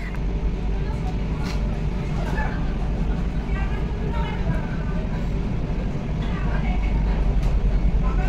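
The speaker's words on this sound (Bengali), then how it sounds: "5টা 55-তে ট্রেন হাওড়া ছাড়ার কথা" A Vande Bharat Express train departing Howrah station gives a steady, loud rumble of rolling stock with a constant low drone, broad rail noise and faint crowd murmur throughout.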